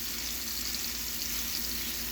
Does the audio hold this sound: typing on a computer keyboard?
no